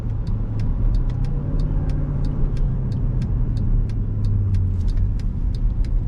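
Inside the cabin of a 2008 Mercedes-Benz ML63 AMG, a constant low V8 rumble off throttle under road noise, with a faint regular ticking clicking along throughout.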